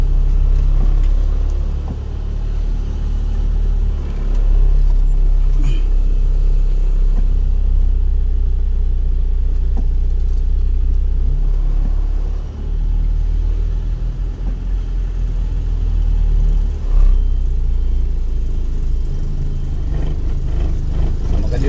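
Steady road traffic in Iligan City rumbles loudly and continuously, with engines humming and passing vehicles swelling and fading over the low din, no voices.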